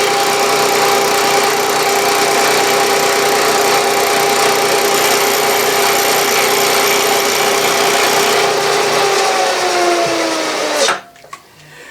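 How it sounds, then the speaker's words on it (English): A milling machine takes a last pass, cutting into a corner of a steel steam engine part, with a steady whine and hum that runs continuously before winding down and stopping abruptly near the end. "When I'm milling into a corner like this, I like to make sure I'm taking just a little bit off the side and a little bit off the bottom"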